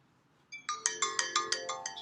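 An iPhone ringtone plays alone: a bright, chiming melodic pattern that repeats in quick, evenly spaced pulses after a brief quiet start, moderately soft and clear.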